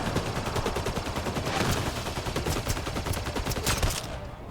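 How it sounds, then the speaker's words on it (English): Rapid, sustained assault rifle fire in the sci-fi shooter game Mass Effect Andromeda, with dense automatic bursts crackling continuously for several seconds before cutting off abruptly. "I'm going to use my assault rifle for that guy"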